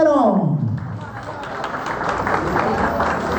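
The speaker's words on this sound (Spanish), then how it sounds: "¿Y dónde están los aplausos para el cumpleañero?" Guests applaud the birthday man at an evening celebration that doubles as a wedding anniversary ceremony, with a steady wash of clapping and crowd noise that stays near and loud and carries a voice briefly over it at the start.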